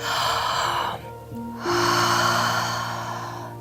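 Slow, deep breaths during a third-trimester pregnancy pelvic floor release stretch, one long airy exhale, a short pause, then another full breath, close and clear with a low steady tone beneath.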